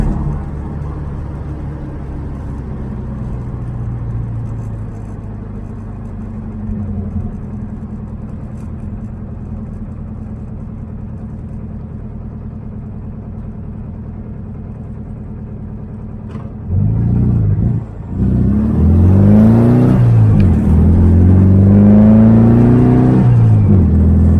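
A VW car with a slight flat spot on takeoff idles and rumbles steadily for about sixteen seconds, then the engine revs up loud and close as it pulls away, pitch rising in repeated surges through the gears.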